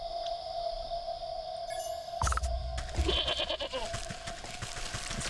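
A goat bleats briefly in the video game Wytchwood, rising over a steady tonal hum and soft game ambience.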